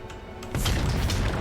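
A howitzer cannon fires in the video game Total War: Warhammer III, a single sudden loud boom that starts about halfway through and rumbles on to the end.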